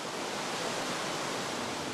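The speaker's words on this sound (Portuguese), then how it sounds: "quando a neve, no topo daquelas montanhas lá atrás derrete, escorre pelas frestas, formando cachoeiras de água límpida" Waterfalls of clear snowmelt water running down volcanic mountain crevices in Iceland, a steady, full hiss of rushing water close by, with no voices.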